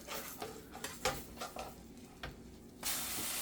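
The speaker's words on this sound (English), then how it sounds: "Do you hear it sizzling?" A keto pancake sizzles in a frying pan, a quiet steady crackle broken by scattered pops and ticks, then a louder continuous hiss near the end.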